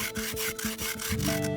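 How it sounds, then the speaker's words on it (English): Sandpaper scrubs over a painted mural wall in quick, even back-and-forth strokes, about eight rasping passes, close and moderately loud. "Should we try sandpaper?"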